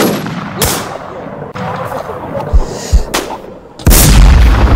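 Gunfire in the survival shooter Infestation Survivor Stories: single heavy, booming shots spaced a second or so apart, ending in a loud, sustained blast, with background noise between them.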